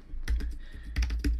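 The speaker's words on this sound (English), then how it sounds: "So what we did is just type in here" Quick bursts of keystrokes on a computer keyboard, several crisp clicks in two close clusters, near and fairly clear with no voices.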